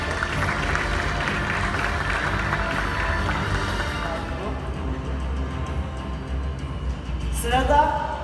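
Audience at the Design Week Turkey 2017 award ceremony applauds steadily as designer Öner Yıldırım is invited on stage, a dense crowd of clapping that thins toward the end as a voice comes over it.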